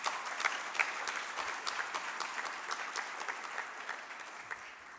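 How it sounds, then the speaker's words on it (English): Audience applause at a national Diwali celebration concert, steady sustained clapping from a hall crowd, moderately distant and even throughout. "request you for one more round of applause in appreciation of them"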